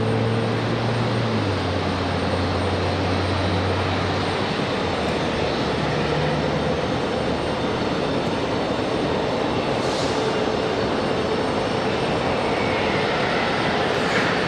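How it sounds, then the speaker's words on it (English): Republic Airways flight 4493, a jet arriving from Pittsburgh at Raleigh-Durham International, gives a steady, loud broadband engine roar that holds without a break, with no voices over it. "Republic Airways 4493 coming in from Pittsburgh, Pennsylvania."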